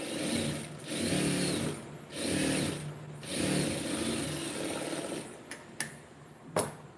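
Sewing machine stitching a lined blouse sleeve; quiet whirring runs of several bursts separated by short pauses, ending with a few sharp mechanical clicks, no talk.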